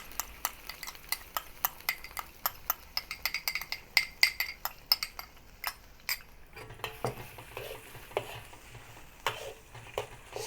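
Fermented tofu paste with chili and sauce is stir-fried in a wok over low heat, a metal spatula clinking and scraping in a quick, regular rhythm over a soft sizzle before the stirring turns looser and quieter.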